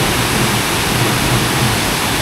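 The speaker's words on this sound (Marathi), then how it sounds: "धबधबा" A loud, dense roar of falling water from a waterfall at Dhootpapeshwar Temple, Rajapur, Konkan, fills the scene evenly and without pause, with no voices over it.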